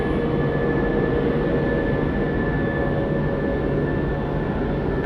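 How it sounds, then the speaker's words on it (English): A Jetstar airliner taking off at night at Sydney Airport makes a loud, steady, broadband jet roar with a thin high whine that holds for the whole stretch, with no voices over it. "So this Jetstar is taking off."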